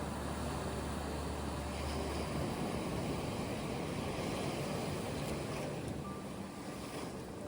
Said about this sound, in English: as the tide moves gently in and out